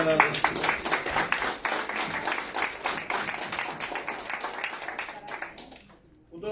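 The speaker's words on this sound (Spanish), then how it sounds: "Le damos un aplauso" A room full of people clapping together at a city council session after a unanimous vote, dense applause that holds steady for several seconds before fading out quickly at the end.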